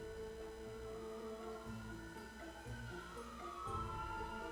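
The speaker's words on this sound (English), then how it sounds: "there's the police. As always, blaring their sirens by my window" A police car siren passes outside a window, its wailing tone rising and sweeping steadily, heard faintly from a distance beneath a layer of game music.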